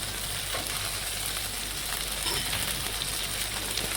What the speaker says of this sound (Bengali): এখন আমি দিয়ে দিচ্ছি টমেটো কুচি